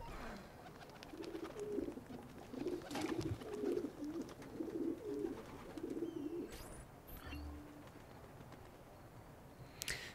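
Soft pigeon coos at a dovecote in Assassin's Creed 2, a run of repeated low warbling calls over faint ambient background, followed by a couple of brief clicks.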